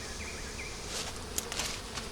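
Bees buzz around a crowded, honey-bound three-deep eight-frame hive, a faint, continuous hum with a few individual bees droning closer in passing.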